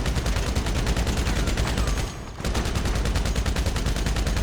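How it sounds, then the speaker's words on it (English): Rapid automatic gunfire in GTA 5 Online, a dense stream of loud shots with a brief gap midway before the burst resumes at the same fast rhythm. "Even when I'm shooting stuff in front of me"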